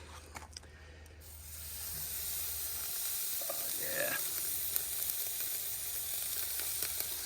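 A ribeye steak sizzles on a PatioToy hibachi grill, a steady hiss of frying that swells after a few seconds and holds, with small pops through it.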